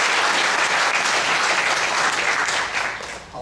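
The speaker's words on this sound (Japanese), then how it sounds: "拍手で。" Audience at a public lecture on the Mogami Oguni River dam plan applauds, a dense sustained wash of many hands clapping throughout, tapering slightly near the end.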